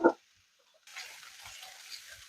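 Onions softening in a pan for baked ziti: after a brief clatter, a steady low sizzle with soft stirring scrapes runs for a couple of seconds.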